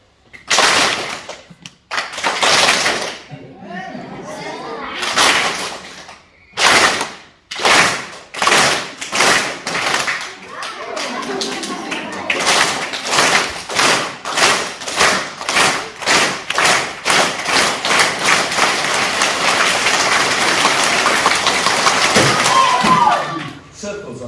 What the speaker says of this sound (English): Every time I take a step, you're gonna clap.